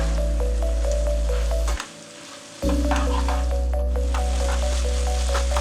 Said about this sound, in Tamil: ஜஸ்ட் நம்ம வந்து ஒரு நிமிஷம் ஹை ஃப்ளேமில் நல்லா குக் பண்ணிக்கலாம்.